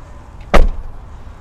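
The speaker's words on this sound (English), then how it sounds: "Now you do have to open your driver's door to access the diesel fill area." The driver's door of a 2022 Renegade Vienna B+ diesel RV opens with a single sharp, close clunk that fades quickly, with no talk.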